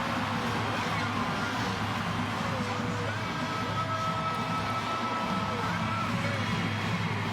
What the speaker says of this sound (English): He asked the crowd to make some noise before that play, and he gets them yelling for 6.